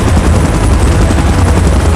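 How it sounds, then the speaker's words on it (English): A helicopter hovers in PUBG's Godzilla vs Kong mode, its rotor thumping in a loud, close, continuous rhythmic chop with no voices over it. "Chopper in position."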